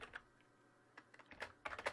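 Sparse keystrokes on a computer keyboard while writing Java code, a few soft clicks then a quick cluster of sharper taps close by.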